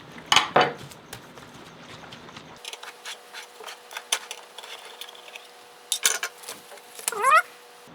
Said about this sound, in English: So I'm going to shake this up.